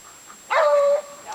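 A herding dog barks once at sheep in a field, a single close, loud bark with a drawn-out whine trailing after it, against a quiet outdoor background.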